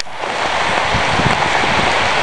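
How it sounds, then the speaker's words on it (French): Steady, heavy rain pours down close by, a dense hiss of drops hitting surfaces with no voices. "Et ici la pluie, c'est pas de la rigolade."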